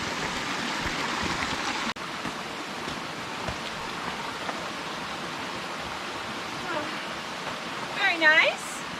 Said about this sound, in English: It's our first wee river crossing.